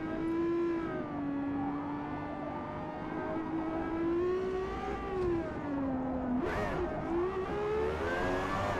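A naturally aspirated 12,000 RPM V12 race car engine in a driving video game howls at high pitch, holding a steady scream that dips and climbs through gear changes and throttle blips, loud and close with no talk.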